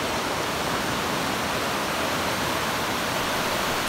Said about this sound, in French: on entend la cascade d'eau